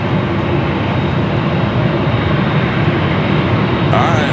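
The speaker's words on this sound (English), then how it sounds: "Korean Air now cleared for takeoff." Korean Air airliner taking off at LAX, a loud, steady wall of jet engine roar held throughout, close and unbroken.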